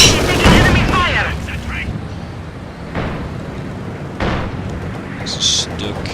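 Enemy gunfire in the Company of Heroes 2 battle, sharp shots and booming blasts scattered between lulls, with voices talking over the fighting.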